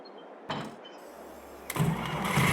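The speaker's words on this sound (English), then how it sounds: "So now we should have a 300 horsepower tractor." A 300-horsepower tractor engine in Farming Simulator 22 cranks and catches, a short starter burst followed by a low engine rumble that swells louder and settles into a steady running tone, with no talk over it.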